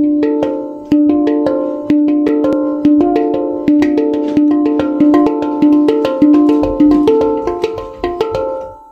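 A space drum (steel tongue drum) struck note by note in a slow, even rhythm, each bright metallic tone ringing out and overlapping the next, played alone and close.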